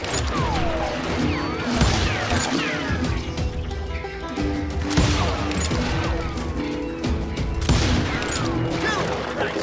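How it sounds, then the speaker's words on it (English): Continuous gunfire rattles through a shootout in the Western video game Call of Juarez Gunslinger, with dense overlapping shots, crashes and impacts in a steady loud barrage, and shouting voices mixed in. "Someone shoot that bastard!"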